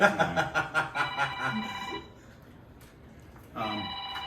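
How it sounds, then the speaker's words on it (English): A phone ringtone plays in rapid pulsing bursts, stops, then resumes after a pause, close by with faint murmuring in the background. "Someone's phone's ringing."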